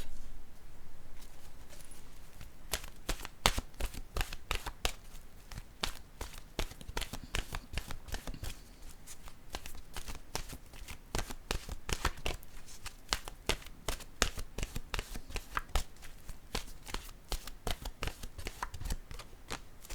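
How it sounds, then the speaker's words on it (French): An oracle deck being shuffled by hand before one card is drawn: a long, steady stream of soft papery flicks and taps, close and fairly quiet, going on for the whole stretch with no voice. "Je vais piger maintenant une carte de mon oracle de l'âme intuitive."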